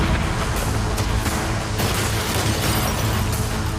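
Cannons fire at a yacht in a loud, continuous barrage of booms and bursts. The dense blasting rolls on for the whole stretch with no quiet gaps between shots.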